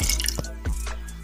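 Water poured into a pot of adobo with garlic, soy sauce, vinegar, peppercorns and bay leaves, heard as a few close, brief splashing drips over a low steady hum.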